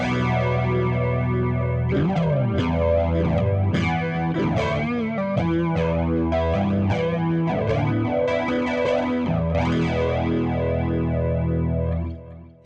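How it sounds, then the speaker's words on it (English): A Vox Cambridge 50 guitar amp plays chords and single notes through tape echo and flanging, the tone distorted and swirling with sweeping comb-like shifts and repeating echoes, steady and loud throughout before a quick fade at the end. "So I've got echo and flanging."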